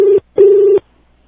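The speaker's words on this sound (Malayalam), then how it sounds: "ഇനി ഹർജിക്കാരൻ സവാദിനെ ബന്ധപ്പെടാം" Telephone keypad tones from a call being dialed, two steady beeps, a short one then a longer one, loud and close with silence after, no voices.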